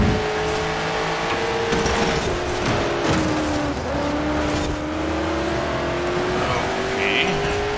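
A Ferrari in Forza Horizon 4 drives hard with a loud, continuous engine drone whose pitch rises and falls with gear changes, mixed with tire squeal and skidding throughout.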